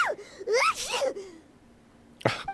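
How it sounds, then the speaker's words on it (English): A small animated companion character in the video game Genshin Impact gives a high-pitched sneeze: rising squeaky inhales, a voiced build-up, then a sharp bright sneeze burst after a brief pause, close and clear without other talk. "I don't think we've ever heard Paimon Rainbow sneeze."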